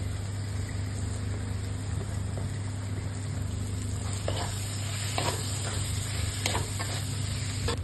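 Prawns sizzle steadily in a fried-down spice paste for a Bengali coconut prawn curry, narkel chingri, a close, constant hiss of frying with a few scraping stirs of a spoon in the pan.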